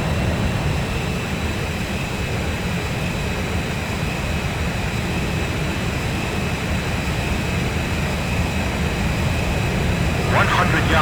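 A jet aircraft engine roars continuously in flight during an aerial refueling approach in the video game Ace Combat 5: The Unsung War, a loud, steady broadband rumble with radio chatter underneath.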